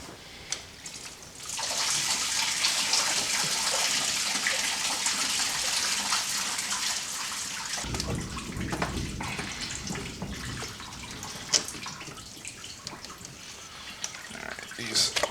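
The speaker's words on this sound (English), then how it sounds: "There's where you're going to lose all your coolant." Engine coolant drains from a 2001-2005 Honda Civic during engine removal, a steady hissing gush that starts abruptly and runs continuously, shifting to a lower, splattering flow partway through.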